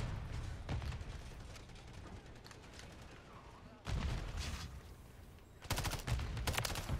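Rapid bursts of gunfire in a video game on the Shipment map, dense rattling volleys with mechanical clicks, a quieter stretch in the middle, then loud bursts again near the end.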